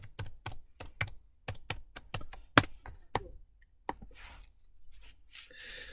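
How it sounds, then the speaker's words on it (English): Typing on a computer keyboard, close and crisp: a run of quick, sharp key clicks in an uneven rhythm, ending in softer scattered taps and rustle. "Type this in."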